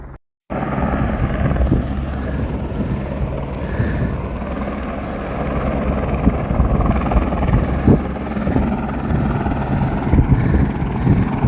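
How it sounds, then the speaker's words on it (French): Firefighting helicopter flying over a wildfire near a farm in Portugal, its rotor and engine roaring loud and steady overhead with a constant churning wash, broken only by a brief dropout at the very start. "Un deuxième hélico est arrivé."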